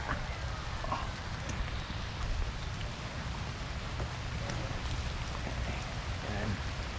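Rain falls in a steady, soft hiss with scattered pattering drops in the Philippine countryside, with a low rumble underneath and faint voices now and then.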